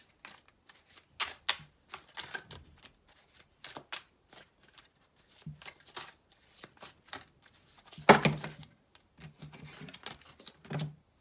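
Close shuffling of a tarot card deck: repeated crisp riffles and flicks in short bursts with quiet pauses between them, with a louder cascade near the end and no talking.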